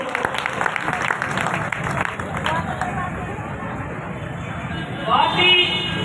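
Audience clapping at a meeting of municipal workers, a moderate crowd applause with background babble that fades, then a voice rises briefly near the end.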